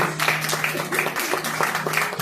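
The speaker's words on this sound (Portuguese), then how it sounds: "Dá suas palmas" A crowd claps in a steady rhythm, fairly loud, with a voice and faint music carrying underneath.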